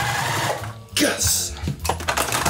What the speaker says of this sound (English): I'm gonna sew along that entire strip.